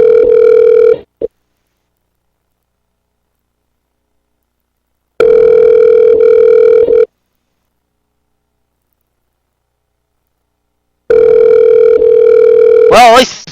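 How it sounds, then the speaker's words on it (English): A steady electronic ring tone sounds in long bursts separated by several seconds of silence, three rings heard clearly over the line. "Well, at least it's ringing and not a busy signal."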